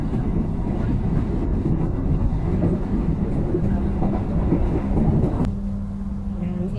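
KA Malabar passenger train running through Klaten station on the Southern Java railway line, a loud steady rumble with rail clatter heard from onboard, easing slightly near the end.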